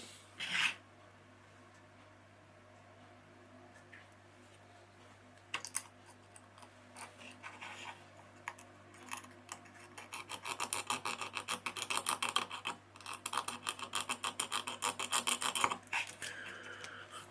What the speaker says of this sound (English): We'll just do a bit of filing and I'll be back with you once I finish filing